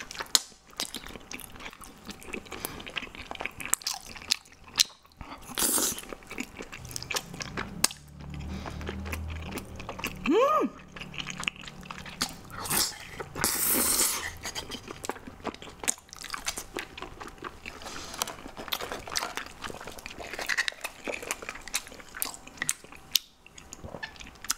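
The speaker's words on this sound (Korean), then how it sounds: "중국 당면 먹어볼게요." Chinese glass noodles from a spicy seafood dish with squid, enoki mushrooms and penshell clams are eaten close up, with wet slurps, chewing and crunchy bites coming in irregular bursts.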